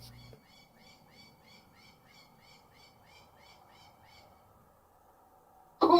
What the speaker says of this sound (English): That bird sounds pissed.